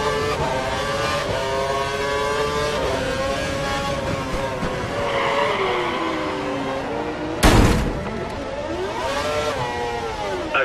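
Formula One race car engine from the F1 2012 racing game at the Singapore Grand Prix, onboard, a continuous high-pitched whine that rises and falls with gear changes, with a brief loud burst partway through.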